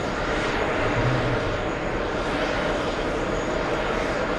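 American Airlines flight 292 airliner bound for Delhi, a continuous broad jet roar at steady loudness, fairly close, with no voices over it.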